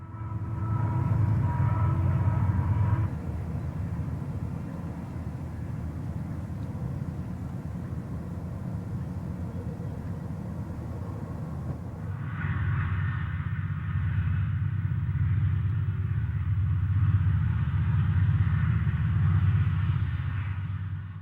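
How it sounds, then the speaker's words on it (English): Diesel locomotives running light, without revenue tonnage, labor up a heavy mountain grade in an arid region, making a loud sustained engine drone and rumble that shifts in tone partway through. "the locomotives have plenty to say about their heavy climb"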